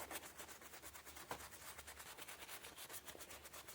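Art paint is rubbed in by hand across a surface, a soft, rhythmic scrubbing friction that repeats in quick strokes, close and fairly quiet, with no one talking.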